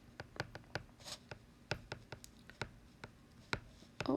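Pen or marker writing out a worked polynomial equation example by hand, a quick series of sharp taps and scratchy strokes close up, irregular in rhythm, with no talking.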